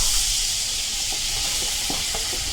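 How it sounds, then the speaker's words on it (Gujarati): Desi jaggery melts in a kadai with a steady hiss and sizzle, faint scraping and bubbling pops rising now and then above the constant frying noise. "તેને કઢાઈમાં નાખી દેશું અને તેને ઓગાળી લેશું"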